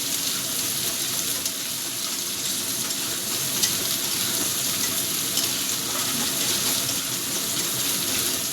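Chopped onion hits hot oil with fried garlic in a pan, giving a loud, close, continuous sizzle that stays steady throughout.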